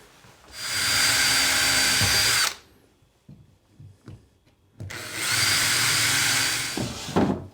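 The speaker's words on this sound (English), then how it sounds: "we now fix this with the medium-sized screws" A power drill drives medium-sized screws into a flat-pack extending unit in a motorcycle campervan conversion, with two loud, close bursts of a few seconds each. Quieter knocks and handling sounds fill the gap between them.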